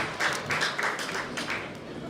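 Audience applause at a mushaira poetry recital, a short burst of clapping from a modest crowd in uneven waves that swell and fade, fairly close and loud.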